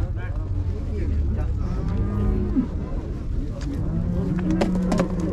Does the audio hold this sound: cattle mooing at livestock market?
yes